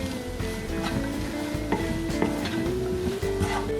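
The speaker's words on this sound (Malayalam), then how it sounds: "ഇനി ഇതിലേക്ക് അരിഞ്ഞു വെച്ചിരിക്കുന്ന സവാള ചേർത്ത് കൊടുക്കാം. സവാളയുടെ കളർ മാറുന്ന വരെ നന്നായിട്ടൊന്ന് വഴറ്റിയെടുക്കണം." Chopped onions with a little salt sautéing in a pan for egg roast, a steady close sizzle and crackle running throughout with faint stirring scrapes, no talking.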